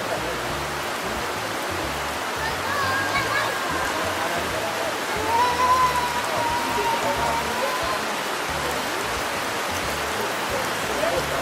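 Steady rain pours in an Ecuador rainforest, a dense, even hiss of drops on leaves and surfaces that continues throughout, with faint background sounds but no clear talk.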